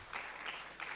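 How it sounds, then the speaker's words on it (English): Faint, distant clapping swells in a few soft bursts as an online youth forum welcomes a panelist. "Round of applause as we invite Kipyegon."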